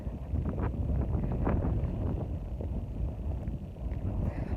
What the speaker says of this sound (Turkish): Biraz rüzgarlı bir gün bu bugün.